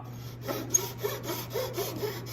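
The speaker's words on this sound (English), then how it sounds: "That's where I'm gonna line the saw up, perfectly right there." A hand saw cuts a wooden trebuchet brace held in a miter gauge, making steady back-and-forth rasping strokes at close range, roughly four strokes with no talking.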